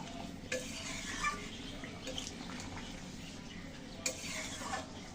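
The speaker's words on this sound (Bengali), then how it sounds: "ভালো করে মিশিয়ে নিলাম।" Potato and egg curry is stirred in a pan over a soft simmering sizzle, with a few faint scraping knocks of the spoon against the pan.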